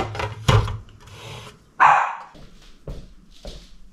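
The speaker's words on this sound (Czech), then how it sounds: "Kdo to tady štěká?" A dog barks indoors in a home, giving a few sharp, close barks separated by pauses, with some quieter whining between them.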